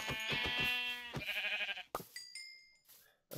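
A sheep in Minecraft gives a close, loud, quavering bleat that breaks into a second shorter cry, followed by brief, quieter game sound effects.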